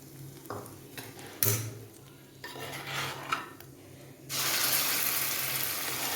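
A few utensil clinks and scrapes, then a loud sudden sizzle erupts and keeps hissing as hot tempering is poured into a bitter gourd and mango curry.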